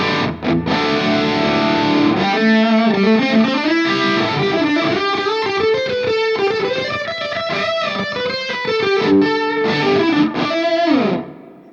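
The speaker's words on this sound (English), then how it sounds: "Now, let's go ahead and switch the doubler on." Electric guitar played through a KMA Machines Endgame pedal with its doubler switched on: a thick, distorted, chorus-like melodic line with sliding bends and chord stabs, loud and up close.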